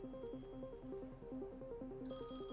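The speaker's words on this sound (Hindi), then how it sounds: "घंटी बज रही है।" A phone rings with a repeating electronic ringtone melody, steady and moderately faint, with no voices over it and a brighter tone entering near the end.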